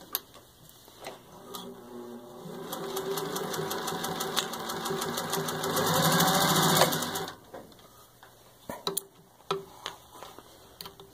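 A rewired and serviced vintage 1941 Singer 201-2 sewing machine runs in a loud, steady whirring hum that rises in speed, then stops, followed by a few sharp mechanical clicks and taps nearby.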